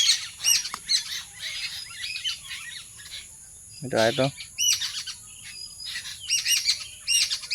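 Young birds perched in a tree give repeated high chirps and tweets in short bursts across the clip, over a steady insect-like hiss. Someone briefly says a few words midway.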